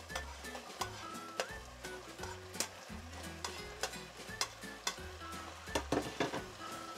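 Mushrooms and capsicums frying in a hot pan for pasta, a soft constant sizzle broken by repeated stirring scrapes and clinks of a utensil against the pan, close and fairly quiet with no talk.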